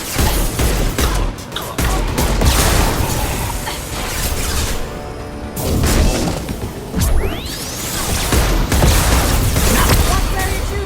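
Intense gunfire in the video game Mass Effect 2, loud overlapping bursts of shots with whooshes, crashing impacts and booms, running throughout while game characters call out over the fighting.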